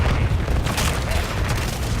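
Heavy artillery barrage in the multiplayer shooter MW4, a dense, continuous rumble of deep booms and blasts filling the scene at close range, loud and steady throughout.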